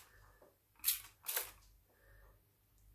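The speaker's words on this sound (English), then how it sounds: "Maybe even just a little bit of a spray here, a little spray up there too." A spray bottle spritzes water onto a textured-surface painting of an ancient tree. Two short, sharp hissing puffs sound close and distinct, separated by a brief pause, against a quiet room.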